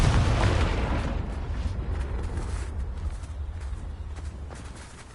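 A Confringo blasting curse in the Hogwarts Legacy game bursts into a loud, broad explosion at the start, then rumbles and crackles away over several seconds, with no voices.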